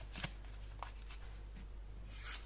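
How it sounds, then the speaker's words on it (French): Oracle cards are shuffled and handled close up in a quiet room. A few sharp riffling flicks and soft papery slides come in short bursts, with no talking. "Alors, je prends d'autres cartes. Avec cet oracle, je vous fais parvenir les messages."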